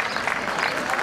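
Applause for prize winners at an outdoor awards ceremony for a Mayos contest, a dense, continuous wash of clapping from a crowd, loud and close, lasting about a second.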